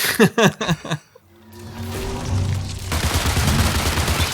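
A BRRT SMG fires in the Marathon video game: a rapid burst of shots opens the clip, then a low droning hum builds and a dense roaring rush of automatic fire takes over, loud and close.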